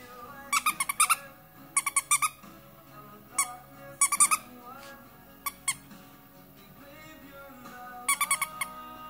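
A two-month-old black and tan Norfolk Terrier puppy plays with a squeaky toy, producing repeated bursts of sharp high squeaks in quick clusters, fairly close and loud, with quieter rustling between.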